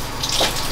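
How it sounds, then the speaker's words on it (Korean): Shower water running while a rescued dog is washed, a short burst of steady splashing spray, close and fairly loud. "샤워 너무 차가워."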